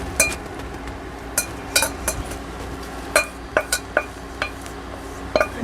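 A utensil scrapes and clinks against a dish while food for beef wellingtons is scraped in, making a series of sharp, close metallic taps and scrapes at irregular intervals.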